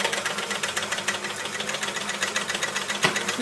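An Elna L4 overlocker serger sewing through fabric, a fast steady mechanical chatter of needles and knives running continuously up close, with a small knock near the end.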